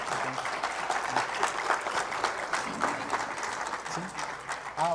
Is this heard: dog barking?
no